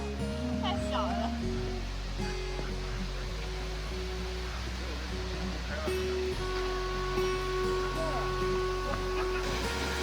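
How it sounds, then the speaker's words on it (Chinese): A small waterfall in a forest near Beijing gives a steady, close rush of falling water that runs unbroken through the whole stretch, with tonal music or voice layered on top. "小瀑布。"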